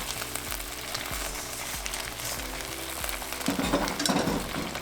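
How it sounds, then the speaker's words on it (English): Pork sizzles and fries loudly in thick sweet and sour sauce over high heat, with a utensil stirring and scraping the pan in steady strokes throughout. "Now we want a higher heat as we're cooking the pork in the sauce."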